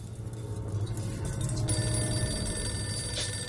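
An old telephone bell rings in a steady, continuous jangle in the video game Poppy Playtime Chapter 3, heard over a low droning ambience with a faint shimmer of high tones.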